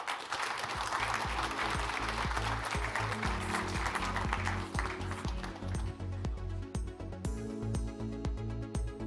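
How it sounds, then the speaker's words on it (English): Audience applause for panelists at a global summit in Germany, dense clapping that fades after several seconds while a steady musical tone with a beat plays underneath. "A huge round of applause."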